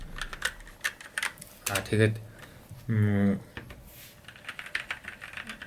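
Keys are pressed on a CK95 gaming keyboard with red switches, producing close, uniform clacks in quick bursts and a couple of longer rolls, while someone talks over part of it.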